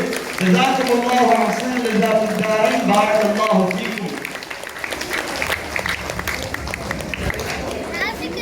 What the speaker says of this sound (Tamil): உங்களுடைய பலத்த கரகோஷத்தோடு